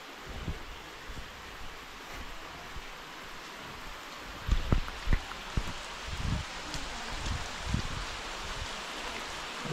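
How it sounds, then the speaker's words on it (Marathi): Heavy monsoon rain falls in Konkan as a steady, soft wash of noise, with a few louder thumps and drips near the middle that could be drops hitting nearby surfaces, fairly faint and with no talking. "पाऊस जोरात"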